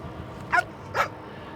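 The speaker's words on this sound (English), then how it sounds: "Dogs are always trying to get me." Two short, sharp dog barks about half a second apart, at moderate distance over a steady low background hum.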